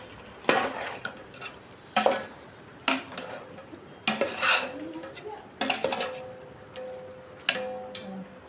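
A spoon scrapes and knocks against a cooking pot while liver bhuna is stirred, giving about eight sharp metallic clanks at uneven intervals with a faint sizzle between them and no talking.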